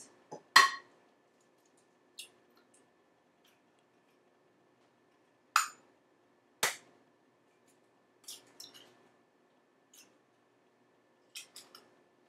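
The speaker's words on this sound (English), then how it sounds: "Now I'm going to take 2 eggs and I'm going to crack them onto another plate, a clean plate." Two eggs cracked onto a clean plate give sparse, sharp taps and cracks spread over a quiet stretch, with a few softer clicks and shell sounds in between.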